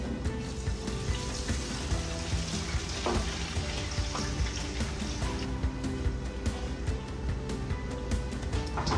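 Slices of homemade garden potatoes fry in a pot of hot oil filled to the max line, giving a loud, continuous, dense sizzle with bubbling and occasional stirring clinks.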